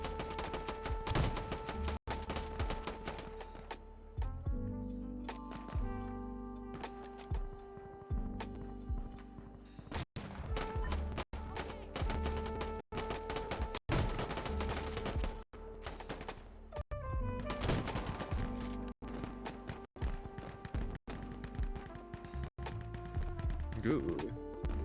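Artillery fire in the shooter game Insurgency Sandstorm, heard as repeated sharp blasts scattered through a busy mix of gunfire and game sounds, with players talking over it.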